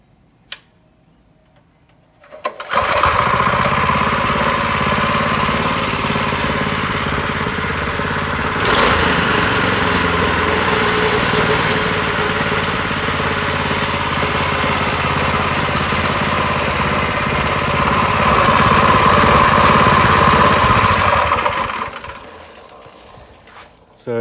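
A homemade drift trike's small engine cranks and catches after a couple of seconds of quiet, then runs loud and steady with a rattly, buzzing drone for about twenty seconds before cutting off near the end.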